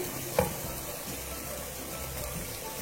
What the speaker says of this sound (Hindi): अब दाल को डाल के अच्छी तरह से तेज आंच पे भूनेंगे।